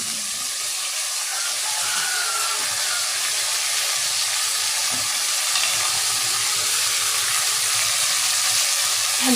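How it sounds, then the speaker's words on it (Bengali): Spices fry in hot oil in a pan, making a steady, dense sizzle and hiss that holds at an even level throughout, close to the microphone. "এই যে মশলা কষানোর জন্য আমি মশলা দিয়ে দিলাম এরপরে তেলের উপরে।"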